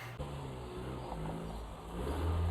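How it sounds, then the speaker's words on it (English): A truck's engine runs and pulls away, its low mid-pitched hum holding steady before swelling louder near the end as it accelerates, with no talking. "If you look at his truck as he drives away"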